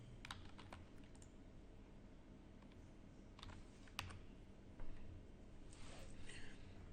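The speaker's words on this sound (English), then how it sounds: "Let me just type it over there in the chat." Keystrokes on a computer keyboard while a message is typed into a chat during a live trading session, faint scattered clicks in a quiet room with a few louder taps.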